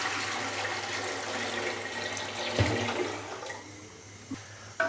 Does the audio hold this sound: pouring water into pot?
yes